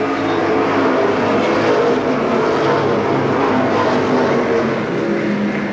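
Pro Stock race cars roar continuously at close range at Seekonk Speedway, a loud, dense engine drone with no pauses and no voices.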